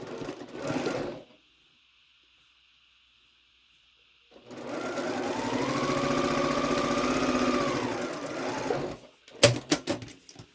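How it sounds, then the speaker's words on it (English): A brief whir, a pause, then a sewing machine stitches quilt fabric steadily for several seconds at close range, followed by a few sharp clicks and taps. "then I'm going to sew this square on the opposite corner"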